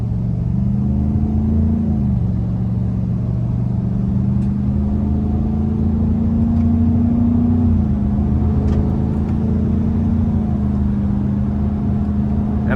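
A 2024 GMC Sierra 1500 AT4 with its 6.2L V8 and active exhaust pulls forward under light throttle, giving a loud, steady, deep engine drone with a rising tone, heard from inside the truck.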